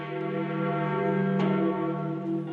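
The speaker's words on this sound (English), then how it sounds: "Ringing the bells of St. Peter's is a very appropriate innovation." Bells of St. Peter's Basilica ringing at the papal conclave, a steady sustained peal with one sharper strike partway through, carrying evenly and fairly loud throughout.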